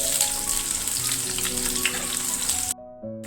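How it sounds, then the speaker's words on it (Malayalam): Small shallots frying in hot oil in a pan give a steady, dense sizzle close by, with faint tonal hum beneath; the sizzle cuts off abruptly near the end, leaving a brief quieter hum. "അതിലേക്ക് ഒരു 10 ചെറിയ ഉള്ളി ഒന്ന് മൂക്കുന്നിടം വരെ ഇളക്കി കൊടുക്കാം"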